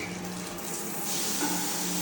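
Water sprays steadily from a showerhead onto the shower, a continuous close hiss of falling water that swells slightly in strength partway through.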